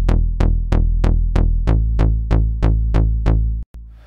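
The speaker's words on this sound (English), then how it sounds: "Sounds like this without any effects." A dry, plucky synth bass from the Trillion synth with no effects plays about ten evenly spaced short notes, each decaying quickly, loud and alone, then cuts off abruptly.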